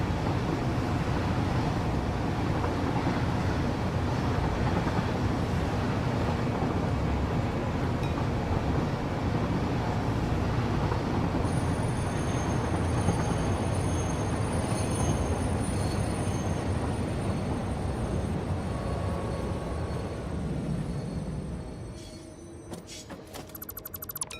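A locomotive without carriages running in the video game Satisfactory, a steady, dense rumbling drone that holds loud and even throughout, then eases off and fades near the end.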